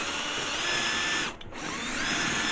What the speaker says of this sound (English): drill through it.